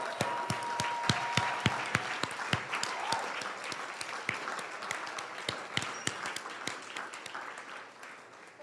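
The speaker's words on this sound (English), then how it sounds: "Ladies and gentlemen, let's applaud them again." Sustained applause from an audience at an awards ceremony for the 2020 finalist and Team of the Year teams, dense steady clapping with sharper individual claps standing out, moderately loud throughout and slowly thinning toward the end.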